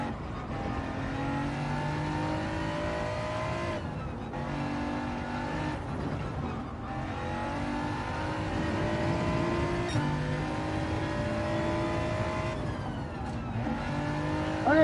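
A racing car engine in a sim race, held at a steady high drone with the throttle preloaded, with brief dips and surges between shifts and no talking.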